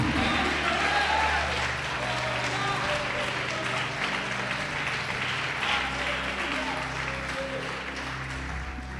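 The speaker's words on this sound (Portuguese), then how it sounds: "Pode aplaudir, glorificar." Congregation applauding during a church service, steady clapping from a crowd mixed with voices and a sustained organ or keyboard tone underneath, holding at a fairly even level.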